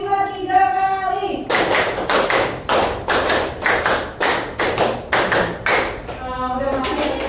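A university class claps in unison through a five-beat pattern repeated three times, with sharp, evenly spaced claps in a steady rhythm. A voice speaks briefly before and after.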